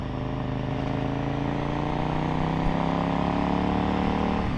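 A KTM Super Duke motorcycle being ridden gives a continuous, loud engine drone whose pitch slowly climbs as it pulls, heard up close from the rider's position with no speech.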